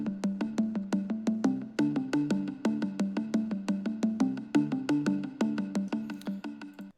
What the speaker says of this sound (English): The delays are being low passed. So it creates this, delay echo effect.